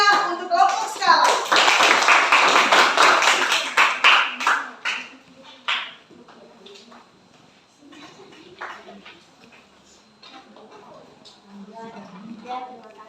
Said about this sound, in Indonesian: Kita memberikan tepuk tangan yang meriah untuk kelompok skala.